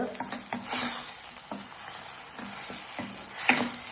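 Tomatoes sautéing in a pan for a pepper chicken dry, a soft steady sizzle with light pattering and occasional spoon scrapes, close and quiet.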